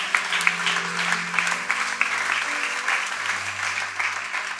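A church congregation applauds steadily, a dense wash of clapping from many hands throughout, with a low voice faintly heard beneath it.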